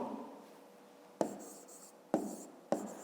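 A pen scratches out a few short bursts of handwriting on paper during a fifth-grade maths exercise, faint and close, with quick separated strokes and quiet pauses between them.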